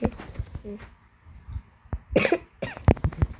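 Several short, sharp coughs break out amid rough breathing and throat noises, close to the microphone, with brief pauses between bursts.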